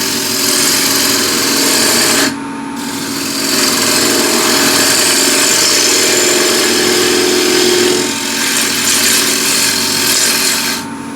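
Wood turning on a lathe with a 10 mm spindle gouge, a loud continuous scraping rasp of the cut that drops out briefly around two seconds, then resumes steady and close until near the end.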